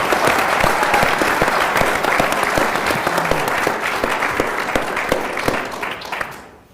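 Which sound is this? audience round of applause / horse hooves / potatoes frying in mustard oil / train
audience round of applause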